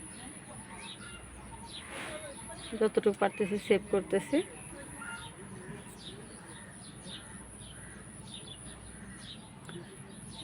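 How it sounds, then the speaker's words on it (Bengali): Pigeons, newly hatched white-mixed squabs kept among older birds, coo in a brief rhythmic burst of about six throaty pulses at close range, partly under a man's speech and steady background noise. "এখন আমি এদেরকে পাহারা দিচ্ছি, কারণ অন্য পুরাতন কবুতরগুলো ওদেরকে মারতে আসে।"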